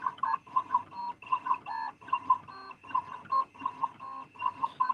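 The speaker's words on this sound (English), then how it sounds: "I am embroidering the prayer changes things file" An embroidery machine stitches a design, giving a rapid, regular mechanical clatter of needle strokes in repeating bursts with short pauses, close and fairly loud, with no voices.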